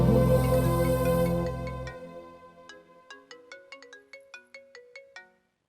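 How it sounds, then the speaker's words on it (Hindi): A mobile phone rings with an incoming call in a Hindi-dubbed South Indian film scene. A bright, repeating melodic ringtone chimes in a steady rhythm of about a dozen short notes, close and clear, after background music fades out. "अब ये क्यों फोन कर रहा है?"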